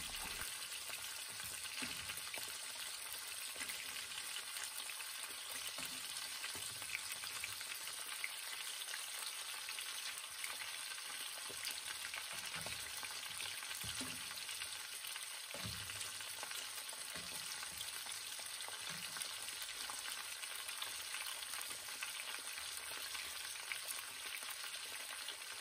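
Beef steak frying in a pan, a steady broadband sizzle holding throughout with occasional soft pops and spatters, close and continuous with no voices.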